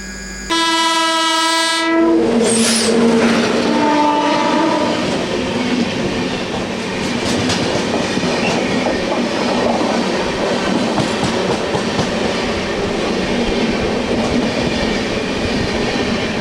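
The Jannayak Express roaring past at close range, opening with a loud multi-tone horn blast, then a steady rumble of wheels and rattling coaches that carries on to the end.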